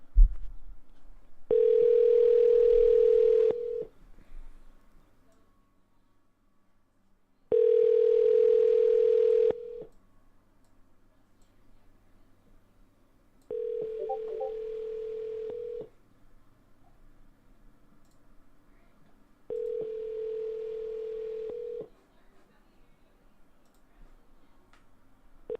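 A telephone line plays four separate bursts of steady tone, each about two seconds long with quiet gaps between them, and faint clicks come through near the handset while a call is placed.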